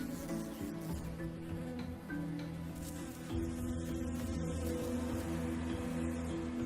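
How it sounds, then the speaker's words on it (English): Honeybees buzz steadily and continuously, a low droning hum of many insects close by, fairly quiet with no voices. "and you'll hear the honeybees abuzz."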